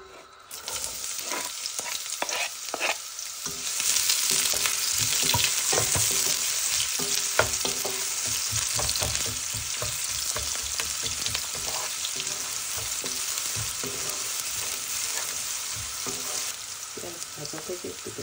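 Chopped onions fry in hot mustard oil with a loud, continuous sizzle, broken by frequent scraping and clacking as a spatula stirs them in the pan, close and with no speech.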